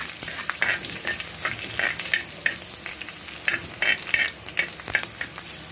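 Cooked greens tipped into an onion and garlic tempering for a leafy soppina saaru, bursts of close sizzling and bubbling that rise and fall alongside stirring scrapes in the pot.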